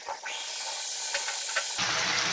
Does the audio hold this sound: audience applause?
no